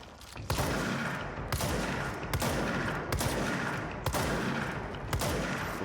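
Video game gunfire in a changing hotel maze setting, loud repeated shot bursts roughly every second, each a sharp crack followed by a rattling wash of noise, with no talking over it.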